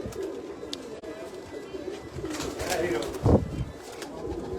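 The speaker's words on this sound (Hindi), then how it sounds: "मशहूर कबूतर सियालकोटी इनका" Sialkoti pigeons cooing close by at a pigeon tournament, with a low throaty coo standing out amid rustling and background chatter.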